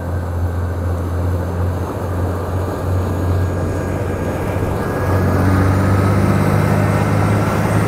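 A 300 hp Oxe diesel outboard engine on a 34-foot Cape Horn boat drones steadily with a low hum, growing slightly louder and higher near the end as it revs up.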